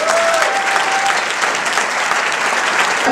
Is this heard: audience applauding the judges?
yes